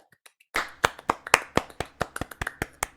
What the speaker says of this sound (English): Little clap.